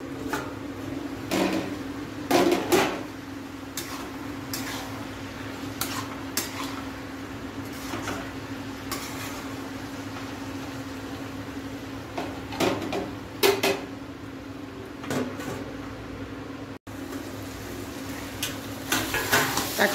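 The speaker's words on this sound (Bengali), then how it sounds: "এখন ভালো করে নাড়াচাড়া করে এখন এটা আমি ঢেকে দিব আর হালকা হিট দিয়ে দেবো।" A spoon scrapes and knocks against a pan as chorchori with cauliflower stalks is stirred over low heat, irregular metallic clinks and scrapes over a soft, steady sizzle, with no talking.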